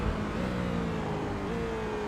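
Onboard engine note of a Porsche race car in a racing sim, running at steady revs with a slowly rising and slightly shifting pitch, continuous and close throughout.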